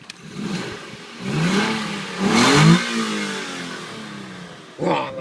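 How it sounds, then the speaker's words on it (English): A 2011 Infiniti G25 engine revving: the idle swells into two rising revs with the second climbing highest, then settles back to a steady idle before a short final blip, heard close and alone. "car one last rev so I can just kind of drool over the sound of it."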